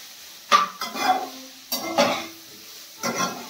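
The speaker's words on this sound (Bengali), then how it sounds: "সবজিগুলো ভাজছি" Vegetables for fried rice tossed in a hot pan, heard as four separate bursts of sizzling and stirring with quiet gaps between them, close and fairly loud.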